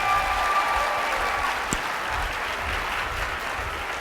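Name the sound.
audience applause for Bob Gridelli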